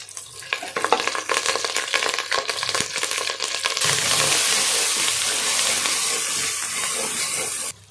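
Ginger-garlic paste and curry leaves hit hot oil for country chicken kulambu, starting with crackling stirs and clinks, then a sudden loud, steady hiss of frying that holds until it cuts off.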